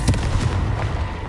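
Confringo fire spell in Hogwarts Legacy, a short burst of booming impacts, two or three quick punchy hits in rapid succession, loud and close.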